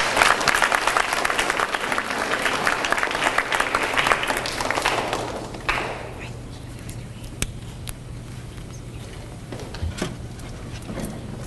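Audience applause for school DARE essay winners fills the first half, loud and sustained, then fades out into quieter room noise with a few scattered claps and murmurs.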